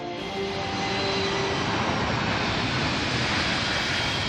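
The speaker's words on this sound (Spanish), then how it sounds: "Los aviones vuelan tan bajo que a veces es imposible oírse uno mismo" Loud, continuous roar of a low-flying airplane near Rome's Fiumicino airport, a dense broadband rumble that fills the whole stretch without a break.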